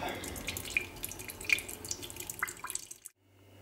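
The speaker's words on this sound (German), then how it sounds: "Und schon fließt das Wasser ideal ab." Water from a freshly opened coconut drains out through its pre-made hole, a steady trickling flow with a few distinct drips, fairly close and alone, ending abruptly into near silence.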